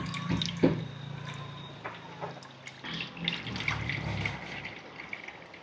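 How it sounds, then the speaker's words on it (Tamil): Water is drained from a pot of soaked food in a kitchen, making continuous close trickling and splashing with small irregular spatters and drips. "தண்ணியை கொஞ்சம் நல்லா வடிச்சு கொள்ளுவோம்."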